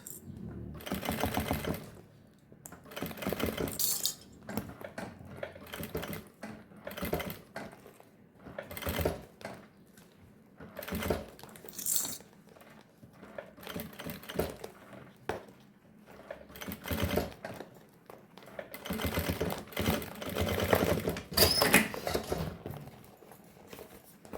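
Sewing machine stitching a baby's pacifier pouch with a transparent plastic front, running in repeated bursts of rapid clatter separated by short pauses as the presser foot is lifted and fabric aligned around curves.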